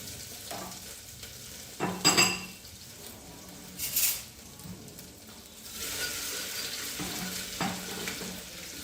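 Ginger-garlic paste is sautéed with bay leaf in a pan for a mutton curry, giving a continuous close sizzle broken by a few loud clinks and scrapes of a spoon against the metal.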